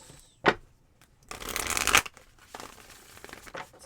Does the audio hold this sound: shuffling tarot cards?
yes